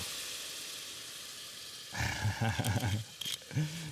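Vegan meat for chili frying in a pan, a hissing sizzle that starts quietly and then jumps louder and closer, crackling busily with a few sharp pops toward the end.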